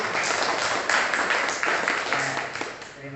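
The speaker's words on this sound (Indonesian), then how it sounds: "Beri tepuk tangan kepada kelompok 1" An audience of students applauds group 1 in a classroom, a loud, dense patter of many hands clapping that keeps going for about three seconds and slowly thins toward the end.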